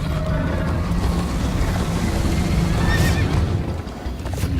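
A horse galloping and neighing in the Minecraft Story Mode video game, with steady hoofbeats and a whinny layered over a dense rumbling, busy game soundscape.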